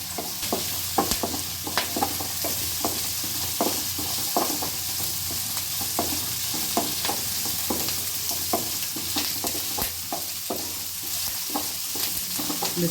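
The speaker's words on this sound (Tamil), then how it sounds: "இப்போ இது எல்லாமே நல்லா ஒரு 2 நிமிஷம் ஃப்ரை பண்ணலாங்க." Shallots and curry leaves fry steadily in a pan for a raw papaya sambar, giving a constant close sizzle broken by frequent sharp clicks and taps of a spoon stirring against the metal, with no talking.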